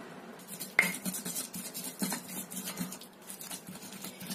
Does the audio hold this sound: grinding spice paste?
yes